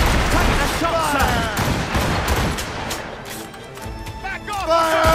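Volleys of musket and cannon fire from a naval battle in the video game Assassin's Creed Rogue, loud bursts of gunfire cracking under shouted commands.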